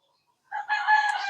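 After a quiet moment, an Egyptian Fayoumi chicken crows once on a farm, close and loud, in a single drawn-out call.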